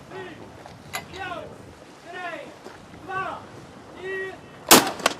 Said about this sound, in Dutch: Het 4 minuten schot.